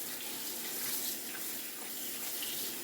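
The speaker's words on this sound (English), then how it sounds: "Maybe 5 times would be the max of like rinsing these napa cabbage." Tap water runs steadily in a steady broadband hiss as napa cabbage is rinsed under a faucet at a sink, close and continuous throughout with no talk.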